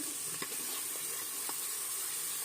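Spices fry in ghee inside a pressure cooker while making aloo matar, giving a soft, steady sizzle and hiss with a couple of faint stirring clicks.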